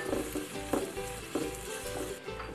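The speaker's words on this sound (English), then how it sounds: "So my onions are getting nice and glassy" Onions fry in a pot with butter for lasagna sauce, a continuous quiet sizzle marked by a few soft stirring scrapes roughly every half second, close up and without talk.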